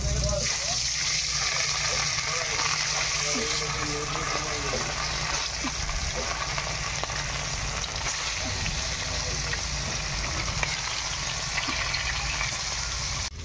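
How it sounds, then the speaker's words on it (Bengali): Fish fries in hot oil in a home kitchen pan, a dense, steady sizzle that crackles and hisses throughout, with a voice talking over it. "তেল গরম হয়ে গেছে, চলো মাছগুলোকে দিয়ে আমি ভেজে নিই।"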